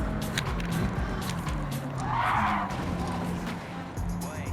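A car brakes hard on a track in Gran Turismo 7, its tires squealing in a loud skid that swells for about a second over the steady engine drone, with faint talk in the background.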